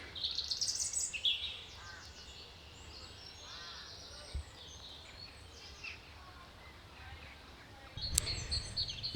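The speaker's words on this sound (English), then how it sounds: "the only sound is all the bird song" Birdsong in a Cornish churchyard: scattered high chirps and tweets at a distance over quiet outdoor ambience, with a brief handling knock near the end.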